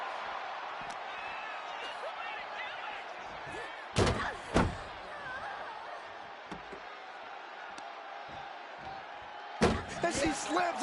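Heavy slams and thuds from a WWE 2K25 wrestling match ring out as sharp impacts over a crowd-filled arena backdrop, two close together early and another later, with commentary voices talking throughout.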